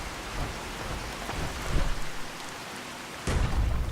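Heavy rain pours steadily in the Fallout 4 video game, a dense continuous hiss with rumbling thunder swelling near the end, with no voices over it.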